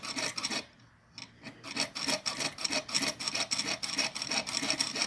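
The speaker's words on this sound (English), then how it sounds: "Almost done sawing out this design." A fine hand saw rasps through thin 18 gauge copper sheet in quick, even back-and-forth strokes, briefly pausing before resuming its steady rhythm, close and fairly quiet.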